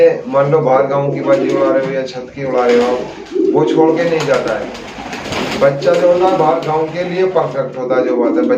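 Pigeons cooing with low, throaty calls heard nearby beneath someone talking steadily throughout.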